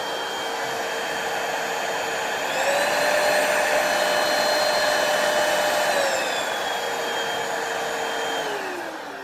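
An Ecohome EVC-999 vacuum cleaner runs with a steady whining motor, then its pitch rises as it shifts to the higher speed, holds there for a few seconds, and drops back as the speed is lowered.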